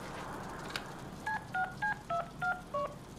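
Six quick telephone keypad dialing tones sound in an even rhythm in the Deadpool video game, clear and close over a low background hum, with no one talking.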